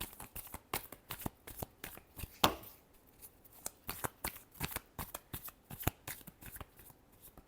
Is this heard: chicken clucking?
no